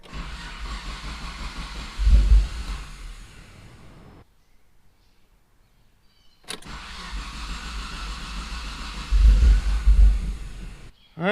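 Mitsubishi 3000GT VR4's twin-turbo 6G72TT engine cranking over in two long bursts of steady whirring starter drone, separated by a silent gap, each swelling briefly as it nearly catches on a rich, over-fuelled mixture.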